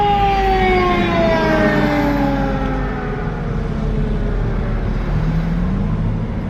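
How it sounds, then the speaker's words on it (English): A fire engine siren wails past, its falling tones sliding downward as it goes by over steady traffic rumble, loud and continuous with no talk. "here's a fire engine"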